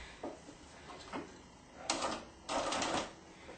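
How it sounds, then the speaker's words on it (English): A sewing machine stitches in short, quiet bursts, with a longer whirring run of stitching near the end. "I'm going to set it underneath the sewing machine. I'm going to do a really, really, really small stitch"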